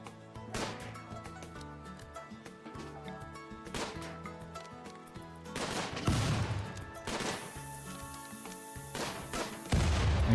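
Gunfire in the zombie video game Imps versus Zombies sounds as a string of sharp shots and cracks, sparse at first then growing denser and louder toward the end, layered over game music.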